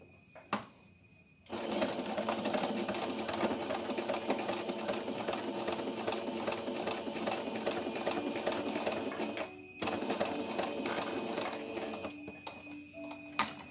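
A sewing machine runs a short hem on a tiny cloth doll's blouse, a close, fast mechanical whir that starts after a click, pauses briefly with a clack, then resumes and stops.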